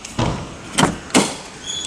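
The door of a 2013 Maruti Suzuki Alto K10 opens with a few sharp, close mechanical clunks and clicks from the latch and hinge, spaced a fraction of a second apart, with no voices.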